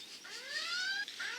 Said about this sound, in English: I got the alarm.